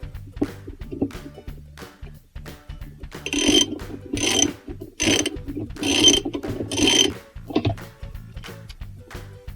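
A bolt is tightened on a washing machine agitator during a transmission replacement, giving a series of scraping, ratcheting metal clicks in several short bursts, close and fairly loud, with no talking.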